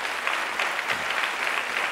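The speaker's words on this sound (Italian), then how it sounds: "Vogliamo fargli un bel applauso al Gigi." A television studio audience applauds during an Italian variety broadcast, a dense, steady wash of clapping with no gaps.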